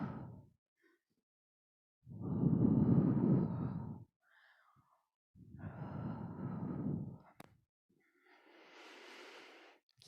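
Slow, deep breathing during a hatha yoga practice, with long audible inhales and exhales separated by quiet pauses, close and soft, and the last breath fading into a sighing exhale.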